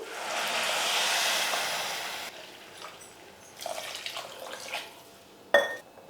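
Water pours steadily into a pot for a couple of seconds, followed by quieter splashes, light clinks of metal and a sharp knock at the end.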